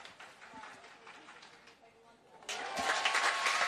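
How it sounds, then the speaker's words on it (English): A stadium crowd at the Australian Athletics Championships bursts into applause after a high jump clearance; soft background noise swells suddenly into loud, sustained clapping. "He's gone clear if you can hear those claps."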